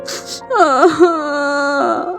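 Cartoon birds cry and wail in a long, loud, wavering moan that bends up and down and holds steady, with short breathy gasps at the start and the wail tapering off at the end.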